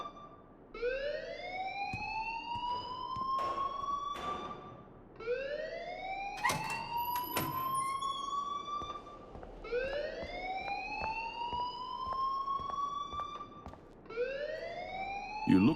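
Rising, wailing fire alarm tones repeat in long sweeps, loud and insistent, in the video game Life is Strange, with a short pause between each cycle.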